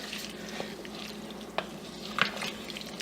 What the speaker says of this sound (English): I'm just going to stir it up real good